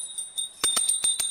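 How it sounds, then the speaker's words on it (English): A small hand bell rings during a Hindu ritual offering. Quick repeated strokes carry a bright, sustained metallic tone, close and with no talking. "please ring the bell as you do so"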